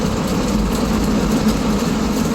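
The engine of a 1965 Corvair 500 rumbles loud and close from inside the car on a test drive, a low steady drone with a slight pulse as the transmission shifts.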